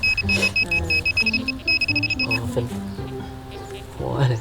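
A metal detector gives repeated high-pitched electronic beeps in quick succession while searching for old coins, a steady tone pattern under someone talking nearby.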